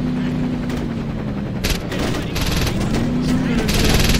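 In Saints Row 2, rapid bursts of gunfire crackle repeatedly over a constant low rotor-like hum from a helicopter, loud and continuous across the game action.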